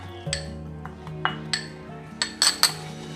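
Pounding chili, coriander root and garlic with a pinch of salt in a mortar, a series of separate sharp knocks and clinks at an uneven steady pace over a low background hum.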